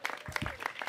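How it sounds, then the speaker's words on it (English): Brief applause from an audience gathered for a New York City mayoral event, a short burst of scattered clapping. "Let's clap it up."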